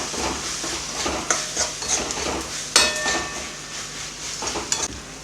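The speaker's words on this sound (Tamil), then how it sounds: "இப்போ நல்லா மிக்ஸ் பண்ணி விட்டுப்போம்" Spoon stirring dal seasoned with asafoetida in a pot, soft scraping and occasional clinks against the metal, with a faint sizzle underneath, close and moderate in level.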